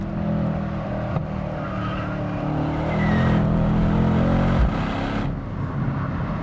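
A Mercedes-Benz C63S AMG W205 accelerates hard from inside the cabin, its engine note climbing steadily under load with quick gear changes and a loud, continuous roar.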